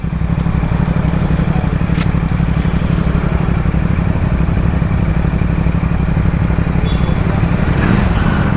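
A CFMOTO 450SRS sports motorcycle drones steadily as it is ridden, its engine note loud and continuous beneath wind noise.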